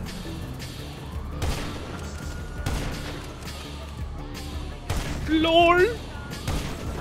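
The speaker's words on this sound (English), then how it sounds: "You gotta be mad to use explosive rounds and like just sniping." A sniper rifle loaded with explosive rounds fires in a video game, sharp booming shots with blasts and crashing debris, some loud and close, over continuous game noise, while someone speaks briefly.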